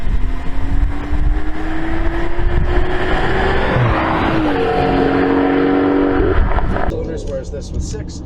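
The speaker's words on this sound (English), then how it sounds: "It has all of that new BMW character in the engine, which is with really enthusiastic exhaust vocals and a ton of low-end torque." A 2018 BMW X3 M40i turbocharged six-cylinder engine drones and rises in pitch as it accelerates under steady talk, with the exhaust building up before the revs drop away near the end.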